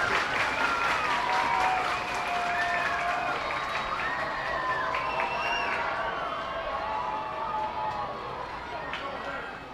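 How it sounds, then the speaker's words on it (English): Minor league baseball crowd at a Reading Fightin Phils game clapping and cheering in the stands, broad sustained applause with whistles and shouts rising over it, easing slightly toward the end. "Everybody clap your hands. Fans are excited here."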